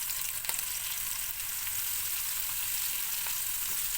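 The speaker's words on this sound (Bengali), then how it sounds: "এবার পনিরগুলো খুব হালকা করে ভেজে নেবো" Steady sizzling of paneer pieces lightly frying in hot oil in a pan, close and continuous with a few small pops and faint stirring.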